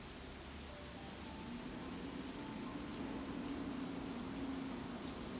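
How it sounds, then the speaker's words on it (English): Faint, steady hiss of heavy rain falling, a continuous wash of noise with no distinct drops standing out. "The rain is getting very strong."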